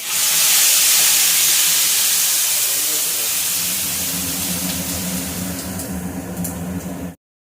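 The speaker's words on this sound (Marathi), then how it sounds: "कढीपत्ता टाकलाय. आता हा मसाला भाजून घेते." Spice masala with curry leaves roasts in a hot pan, giving a loud, steady hiss and sizzle that fades slightly before cutting off abruptly near the end.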